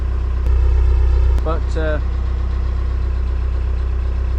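A narrowboat's engine idles with a steady, low, droning hum that runs unbroken from start to finish, close by and fairly loud, while someone briefly speaks over it.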